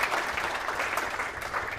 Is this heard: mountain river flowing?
no